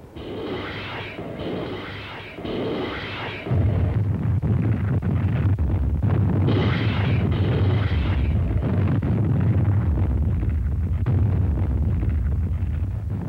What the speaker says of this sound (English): Just before the landing, the rocket ships went to work.